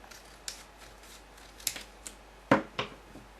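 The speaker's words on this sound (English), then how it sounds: "next thing you'll need to do is cut some strips of foil tape" Scissors cut strips of foil tape, giving a handful of crisp, close snips scattered over a few seconds, with the loudest cut near the end.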